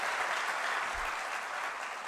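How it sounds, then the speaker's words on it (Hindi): An audience of young people at a public forum claps in a dense, steady burst of applause, close and fairly loud, with no speech over it. "आप ताली बजा रहे हो"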